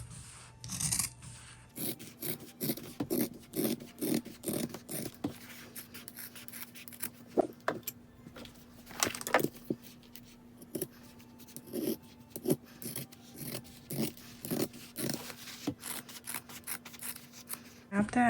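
Scissors trimming fabric while making a bag with a lace zipper, a series of short, crisp snips in an irregular rhythm, close and clear against a faint steady hum.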